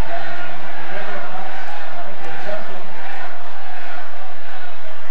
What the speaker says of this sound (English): He's hearing it from the crowd here.